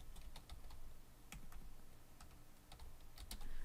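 Text being typed on a computer keyboard during a craft design session, with irregular bursts of quick, crisp key clicks close up and no one talking.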